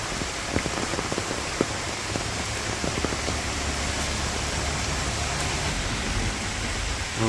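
Moderate rain pours steadily over a rural village on a windy day, a dense, even hiss of drops hitting surfaces, close and continuous with no talk.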